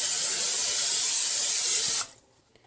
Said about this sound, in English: I'm heating up my skillet, actually getting ready to spray it down.